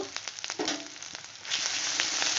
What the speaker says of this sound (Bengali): এবার ওর মধ্যে একটু রসুনকে থেদড়ে নিয়েছি দিয়ে দেব